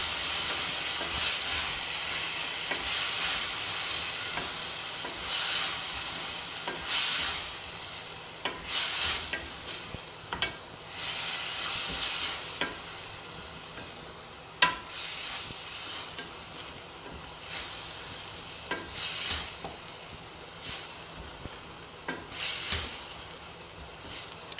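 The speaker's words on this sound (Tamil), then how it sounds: "இதையும் பச்சை வாசனை போகிற வரைக்கும் வதக்கிக்கணும்." Green chili and garlic paste sizzles while being sautéed in a pan, a continuous hiss broken by repeated scraping stirs and soft clatters of the spoon throughout.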